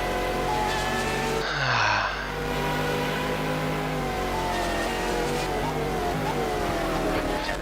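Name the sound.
Ferrari race car engine noise in a racing video game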